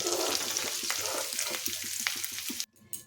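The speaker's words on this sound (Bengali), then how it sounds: "এখন ওই তেলে দিয়ে দিচ্ছি একটা তেজপাতা একটা শুকনো লঙ্কা আর অল্প পাঁচ ফোড়ন" Bay leaf, dried chilli and panch phoron hit hot oil in a pan and burst into a loud, close sizzle with rapid crackling spits that fades to near silence at the end.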